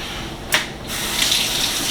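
A kitchen tap runs to rinse tomatoes and onions, with a brief splash and then a steady, close rush of water into the sink and no talking.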